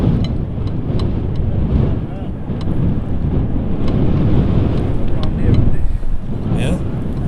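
Strong crosswind buffets an outdoor microphone at an airport, a continuous rough roar with gusty swells and sharp crackles across the whole stretch, loud and close throughout.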